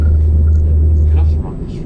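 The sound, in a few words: car driving over rumble strip in driving video game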